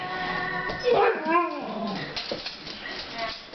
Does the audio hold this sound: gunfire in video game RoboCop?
no